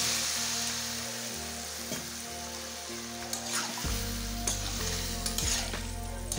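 Pumpkin, potato and mixed vegetables sizzle steadily in a hot pan as water goes in, with scattered clinks and stirring sounds over a constant frying hiss.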